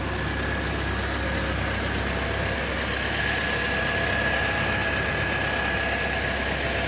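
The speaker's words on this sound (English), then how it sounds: "So we're just gonna sit here and let her idle." An Oldsmobile Alero or Pontiac Grand Am engine sits idling and warming up, a steady, moderately loud drone with a faint high whine running through it, no voices.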